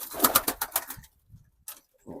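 Pigeons in a backyard coop give a short run of throaty coos and calls up close, followed by quieter pauses and a couple of brief later calls.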